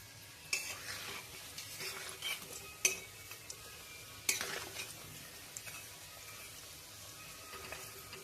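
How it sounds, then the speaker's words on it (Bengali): Vegetable chops coated in arrowroot and breadcrumbs fry gently in oil over low heat, a soft steady sizzle punctuated by several sharp clinks and scrapes of a utensil against the pan. "এখন আমি চপগুলো ভেজে নিচ্ছি, হালকা আছে ভাজছি"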